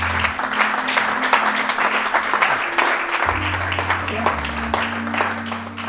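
A church congregation applauds during a sermon, a dense, sustained wash of clapping that carries on for several seconds over a low tonal hum, with a voice faintly present.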